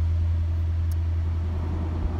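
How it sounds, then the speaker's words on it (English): Mercedes-AMG GT63 S four-door idling with its exhaust flaps open, a steady loud low rumble held evenly throughout, close by with no talk. "I don't know if you heard the flaps open, but they definitely did. It's definitely much louder."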